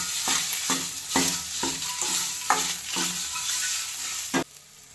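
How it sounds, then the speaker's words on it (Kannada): A pan stir-fry with salt, chili powder and turmeric sizzles steadily while a spoon scrapes and knocks in a regular rhythm of about eight strokes, close and fairly loud, ending in sudden quiet. "ಇದನ್ನಿಷ್ಟು ಹಾಕ್ಬಿಟ್ಟು ಚೆನ್ನಾಗಿ ಮತ್ತೆ ಸ್ವಲ್ಪ ಫ್ರೈ ಮಾಡ್ಕೋಬೇಕು"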